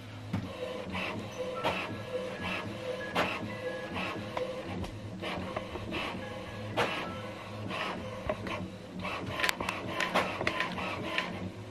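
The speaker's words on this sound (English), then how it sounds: "It's calibrating the paper, is what it's doing right now." An HP Envy Photo 6230 inkjet printer calibrating newly loaded paper, with steady motor whirring and repeated clicks and clunks of the feed mechanism, close and fairly loud for the whole stretch.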